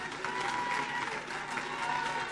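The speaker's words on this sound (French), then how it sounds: "acclame Jésus" A prayer vigil congregation claps steadily in a continuous mass of applause, moderately distant, with crowd voices blended underneath.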